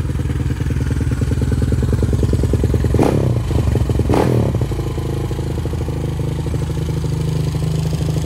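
A Suzuki LTR 450 ATV engine idles steadily and loud after a restart, with two brief louder throttle blips partway through, then settles back to a steady running note.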